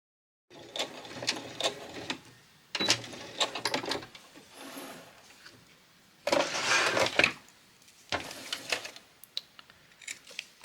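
A sewing machine runs a straight stitch through scrap fabric in several bursts of steady mechanical whirring, separated by short pauses, close and fairly loud with no talking.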